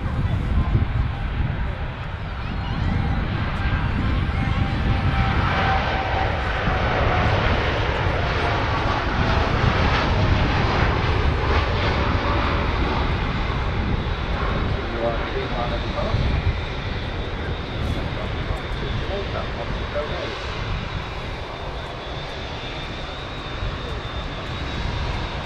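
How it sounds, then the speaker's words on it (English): A TUI Dreamliner jet rolls for takeoff while an Emirates A380 taxis nearby at Manchester Airport, a loud sustained roar of jet engines swelling and slowly easing over about twenty-five seconds, with someone talking through it. "TUI Dreamliner on the roll as the 380 taxis towards us."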